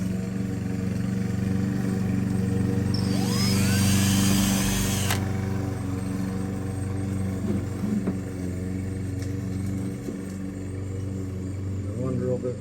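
A steady mechanical rumble and whine of a power drill boring into a truck bed runs throughout, with a brief higher squeal rising partway through, close by.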